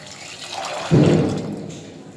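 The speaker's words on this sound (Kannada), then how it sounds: "ಇನ್ನೂ ಸ್ವಲ್ಪ ನೀರು ತೊಗೊಂಡ್ಬರ್ತೀನಿ ಅಂದರೆ ಇಷ್ಟು ನೀರು ಹಾಕ್ತೀನಿ" Water pours in a short gush into a pot with salt added, splashing briefly and then trailing off over a low background hiss.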